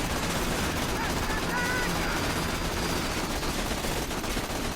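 A bandit-style assault rifle fires in the shooter game Borderlands 2: a dense, steady roar of rapid gunfire that stays loud and unbroken throughout.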